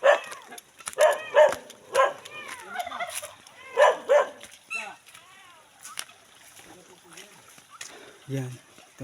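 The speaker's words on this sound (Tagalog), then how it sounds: "Ang dami nilang mga pabo." Many turkeys gobble in repeated loud bursts close by on a hillside, the rhythmic calls strongest early and then thinning out, with scattered rustling between them.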